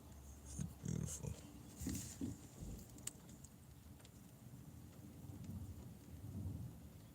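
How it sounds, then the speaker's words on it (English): Steady rain falls outdoors with low rumbles of thunder rolling through, loudest in a few swells early on, with faint voices in the background. "The rain is beautiful."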